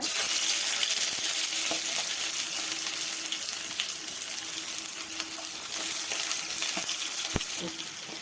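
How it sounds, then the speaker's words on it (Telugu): Onions frying and being stirred in a pan while cooking, a steady broadband sizzle throughout with occasional scraping clicks of the spoon, close and fairly loud with no talking. "ఫస్ట్ అయితే మనం ఆనియన్స్ వేసేద్దాం అనమాట."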